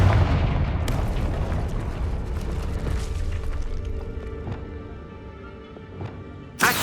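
A Confringo fire spell blasts in the Hogwarts Legacy video game, a loud booming burst that decays over several seconds into rumble and scattered crackles, followed by a sharp new hit at the end.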